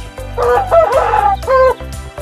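Chickens on a farm where hens are laying and brooding, loud close clucking and crowing calls in quick bursts, with no talk.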